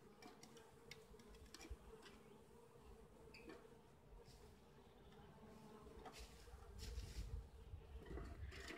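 Honeybees buzz steadily around an open beehive outdoors, a soft continuous drone with individual bees passing close now and then, growing a little louder near the end.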